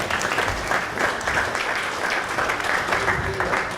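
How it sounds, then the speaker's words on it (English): Audience applause at a Lean Startup Melbourne panel introduction, a steady sustained wash of clapping from a crowd throughout, with a voice faintly audible beneath it. "Big round of applause for Adrian."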